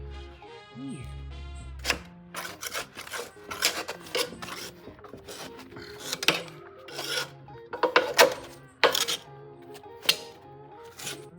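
A homemade putty knife scraping rust off a lawn mower blade, giving repeated short rasping strokes in an uneven rhythm, close and fairly loud, with a low hum at the start.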